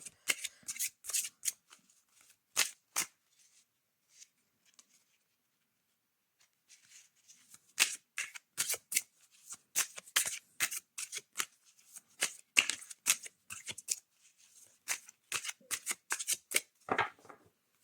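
Oracle cards being shuffled by hand, quick papery riffles and slides in bursts with a pause in the middle, close and fairly quiet, no talk over them.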